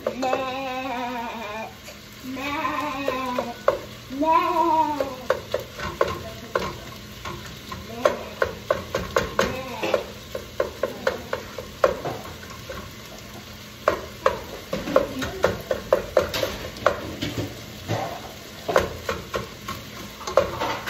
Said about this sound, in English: Chop it up a little bit with your spatula and let it cook a little bit longer